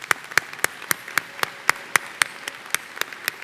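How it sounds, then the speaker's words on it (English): Hands clap in an even, regular beat at a 2022 university commencement ceremony, about four claps per second, crisp and fairly close with light room reverberation and no voices. "If we can give them a round of applause."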